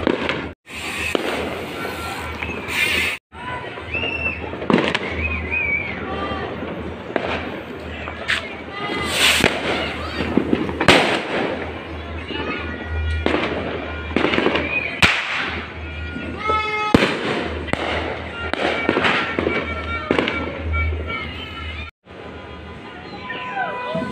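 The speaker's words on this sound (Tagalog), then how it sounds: "Habang sa labas nagpuputukan" New Year's fireworks crackle and bang continuously outdoors, a dense barrage of sharp pops and booms with voices talking faintly underneath.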